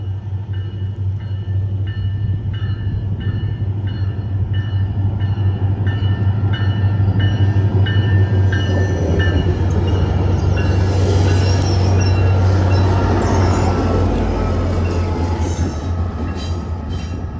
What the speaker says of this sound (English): the last train we'll be seeing here at Winter Park is train 327 with cab car 2010 at the lead